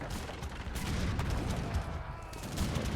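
Artillery and musket fire in an Age of Empires III battle, a dense, continuous clatter of gunshots and booms that keeps going throughout, with no talk over it.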